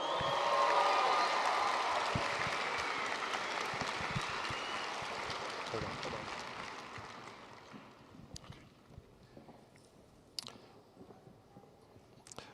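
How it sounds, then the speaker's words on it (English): A high school graduation crowd applauds as graduates walk up to the stage. Thick, sustained clapping fills a large hall, then thins and fades to scattered claps and quiet room noise. "Let's give a pre-applause to all of our graduates as they come up."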